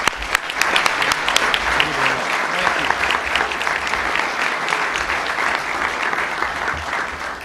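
Sustained audience applause at a National Press Club luncheon welcoming VA Secretary James Nicholson, a steady dense clapping from a sizeable crowd that fills the room for several seconds.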